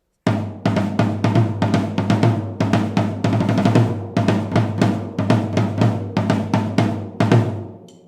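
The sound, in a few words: 14-inch floor tom being played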